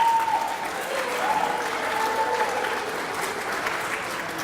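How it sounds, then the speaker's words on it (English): Moderate applause from an audience at an elementary school D.A.R.E. graduation ceremony, fairly soft and even throughout with a faint tone in the background. "That's first applause you got all year, right?"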